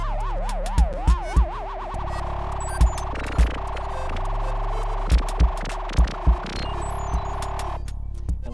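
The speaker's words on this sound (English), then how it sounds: "what you're hearing is me using just one tone or two, sometimes going between tones, but using, again, this oscillator" A live improvised electronic set built on an oscillator: a wobbling, siren-like tone sweeps rapidly up and down, then settles into one or two sustained pitches that shift between each other, punctuated by sharp percussive clicks and thumps.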